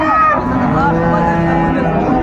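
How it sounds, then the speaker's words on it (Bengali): Sahiwal cow and calf at a busy village cattle market, a low bovine moo rising from dense crowd noise and chatter close by. "শাহিওয়াল জাতের গাভী এবং বাছুর আমরা দেখছিলাম এখানে।"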